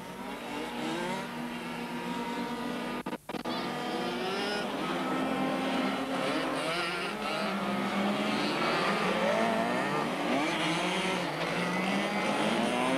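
A high-revving 1/4-scale mini buggy racing engine whines continuously and loudly during a race, pitch rising and falling with gear changes, with a brief cutout early on.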